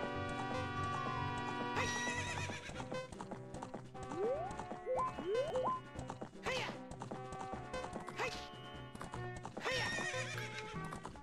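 A horse in the video game Zelda Ocarina of Time, whinnying several times with rising and falling neighs over rhythmic clip-clopping hooves, set against steady game music and occasional crashing effects.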